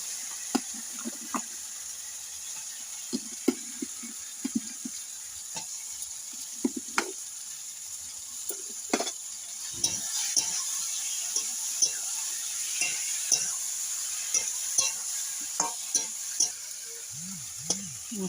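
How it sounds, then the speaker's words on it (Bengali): Potatoes go into spices frying in a pan for a Bengali fish curry, giving a soft, close sizzle with intermittent scraping stirs and no talk. "মশলাটা ভাজা হয়ে গেছে, এবারে আলুটা দিয়ে দেবো।"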